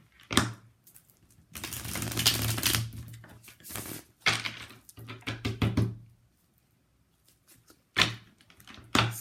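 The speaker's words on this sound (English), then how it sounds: "Okay, shuffle one more time." Tarot cards shuffled by hand during a love reading, giving bursts of crisp riffling and papery rustle in several separate runs with short pauses between, close and fairly quiet, no voices.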